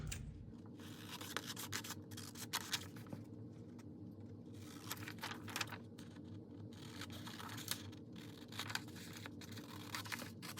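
Scissors cutting traced paper for a coffin-shaped journal: a quiet, close run of crisp snips and papery rustling, steady and unbroken, with no voices.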